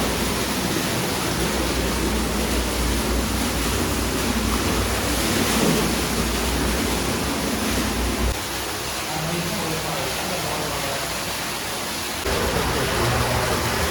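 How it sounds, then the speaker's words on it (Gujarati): A loud, steady rush of water gushing from a newly drilled borewell about 80 feet deep roars continuously, dense and close, briefly easing partway through before surging again. "જો મિત્રો ફૂલ જોરદાર પાણી આવી ગયું ભાઈ"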